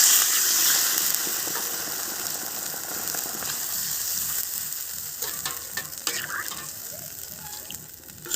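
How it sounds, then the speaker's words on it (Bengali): Water poured into a hot pan of spiced curry paste with potatoes, village-style magur fish curry, sets off a steady loud sizzle and bubbling hiss that gradually settles, with a few clinks of stirring near the end. "জল ঢেলে দিলাম।"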